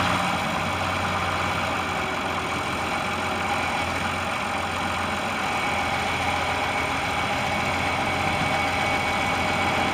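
A 1991 John Deere 2955 four-wheel-drive farm tractor with a loader idles steadily nearby, a continuous low engine rumble with no talking.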